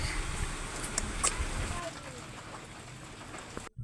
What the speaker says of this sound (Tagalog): Walang tila ang ulan.